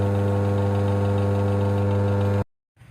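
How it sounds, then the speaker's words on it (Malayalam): A washing machine wash motor hums steadily with a strong low tone and harmonics while turning in one direction only due to a motor fault, then cuts off abruptly, leaving near silence and a faint rustle. "വാഷ് മോട്ടോർ ഇതുപോലെ ഒരു ഭാഗത്തോട്ട് മാത്രം തിരിയുന്ന കണ്ടീഷനിലാണ്"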